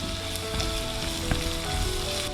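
Onions and shallots sauté in a pan for a Kuttanadan duck roast, giving a dense, loud, continuous sizzle that fills the whole stretch with no voices over it.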